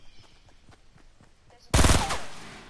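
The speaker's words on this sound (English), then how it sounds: "Oops, I accidentally shot." A single accidental gunshot in the Fortnite video game, a sudden loud blast that cuts in after quiet, soft footsteps and fades out over the following second.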